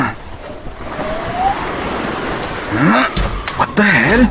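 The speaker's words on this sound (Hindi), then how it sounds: "ये अचानक से इतनी तेज हवा कहां से चल पड़ी?" Strong wind rushes against windows as a horror audio drama effect set at night in Goa. A loud, steady roaring gust runs throughout, and a voice speaks over it near the end.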